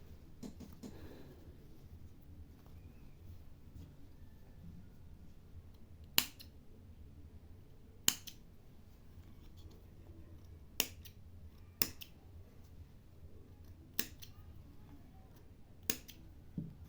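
Scissors snip the yarn tails of crochet puff stitch daisy flowers in about seven sharp, isolated clicks, spaced a second or two apart over quiet room background.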